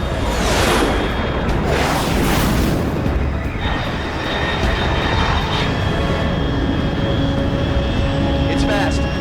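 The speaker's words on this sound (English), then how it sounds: "unidentified aircraft detected" A fast jet aircraft roars overhead in the Metal Gear Solid Delta: Snake Eater video game, a loud, continuous rushing rumble that swells and passes, with game ambience beneath.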